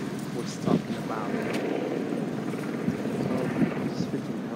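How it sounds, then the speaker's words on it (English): A helicopter is heard nearby as a constant loud rumbling drone with wind buffeting on the microphone and a few faint voices underneath. "So, this freaking helicopter"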